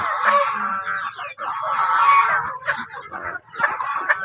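Crossbreed chickens in a farm coop cluck and crow together, close and fairly loud, with a rooster's call rising over steady clucking.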